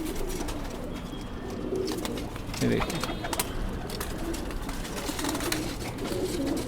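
Kalpara galduma pigeons cooing in a loft, soft repeated low coos under someone talking, with wing flutters and background bustle.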